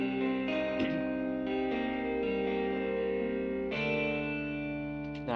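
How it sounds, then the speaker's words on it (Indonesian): Sustained electric guitar chords played clean through an inserted reverb, notes blooming and washing into a long shimmering tail, steady and fairly loud with a fresh strum near the end. "Nah, reverbnya insert lagi, diinsert lagi, suaranya seperti ini."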